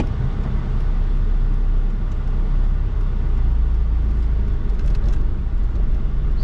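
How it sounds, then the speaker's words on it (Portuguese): A steady low rumble of a manual-transmission car engine running continuously in traffic, loud and close, with no clear changes in pitch. "eu só tô ouvindo o barulho do carro."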